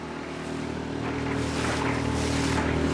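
A boat out on the open sea, with a steady engine hum and tonal drone beneath broad rushing wind and water that swells slightly louder over the few seconds, continuous and fairly close, with no voices.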